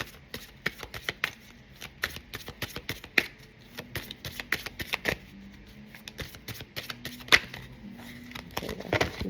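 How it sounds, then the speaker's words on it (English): A deck of playing cards being shuffled over and over in quick bursts of riffling and snapping, close and fairly quiet, with short pauses between shuffles. "One more quick shuffle."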